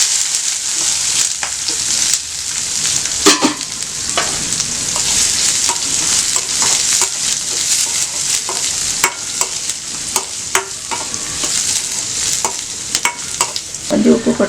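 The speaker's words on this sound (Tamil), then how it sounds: "இது வெங்காயம், பச்சை மிளகாய் போட்டுக்கலாம்." Onion and green chili fry with curry leaves, chana dal and urad dal in hot oil, giving a loud, continuous sizzle broken by frequent scraping stirs of a spoon, close up with no talking.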